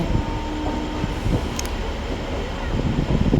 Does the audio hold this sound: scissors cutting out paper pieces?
no